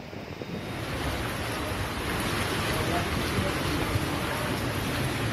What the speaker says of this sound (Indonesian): hujan disertai angin kencang melanda Depok, Jawa Barat sore tadi